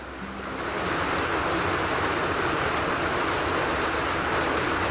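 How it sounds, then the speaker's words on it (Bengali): A pan of shrimp curry with ridge gourd being stirred and fried, a dense, steady hiss of frying that swells within the first second and holds loud and even, with no talk. "এখন নেড়ে চেড়ে একটু ভেজে নেব"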